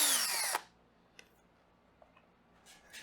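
A power drill briefly spins to break loose the bolts on a KLX250s motorcycle's front blinker assembly, a loud burst lasting about half a second, then quiet with a few faint clicks and light handling noises.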